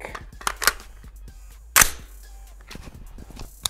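AR-15 rifle firing single semi-automatic shots, with several sharp loud cracks spaced apart and one especially strong blast near the middle, heard outdoors with no talking.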